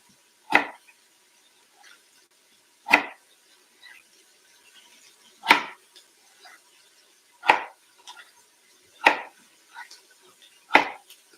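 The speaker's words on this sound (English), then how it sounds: "And cut the strips into cubes." A knife chops potato strips into cubes on a cutting board, six sharp, distinct strikes spaced irregularly about two seconds apart, each close and crisp with quiet pauses and faint scraping in between.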